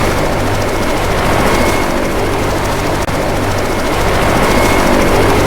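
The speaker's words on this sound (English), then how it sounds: "Get inside the helicopter, Let's go! Everyone to the helicopter!" A loud, steady helicopter engine drone with rotor thrum from the video game Left 4 Dead 2 fills the clip, constant and close, with no other sounds breaking through.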